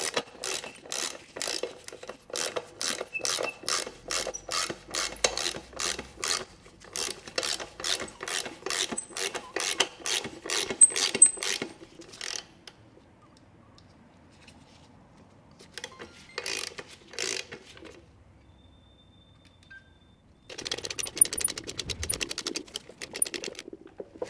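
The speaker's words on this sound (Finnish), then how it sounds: "Lätsketään vetämään tää pultti, mikä vähän jumittu tonne." Ratchet working a stuck bolt on an OMC Cobra sterndrive during reassembly, a fast run of sharp metallic clicks in bursts, pausing, then resuming with denser clicking near the end.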